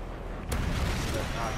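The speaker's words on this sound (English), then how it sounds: "Friendly predator missile inbound." A predator missile strike explodes in Call of Duty: Modern Warfare 3 Survival Mode, a sudden boom rising over a rumbling battlefield, with a voice talking through it.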